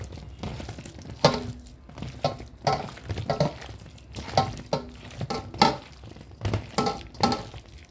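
A cabbage and onion pakoda mixture is kneaded by hand, producing close, rhythmic wet squishing pulses that repeat every second or so, with no talking.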